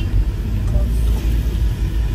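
A car on the road gives a steady, loud, low engine and tyre rumble that stays close throughout, with no clear rise or fade of a pass-by.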